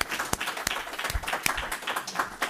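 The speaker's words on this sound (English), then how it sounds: "Let's give her another round of applause." Audience applause for a presenter after a talk on Afro-Colombian literature and culture, a moderately loud round of scattered claps with some sharper individual hits and a faint voice in the background.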